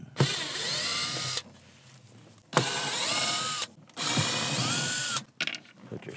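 A power screwdriver runs in three bursts of about a second each, separated by brief pauses, as it backs out the screws holding a fuse panel on a Sun Tracker pontoon boat. The whine is close, loud and clear, with no talking.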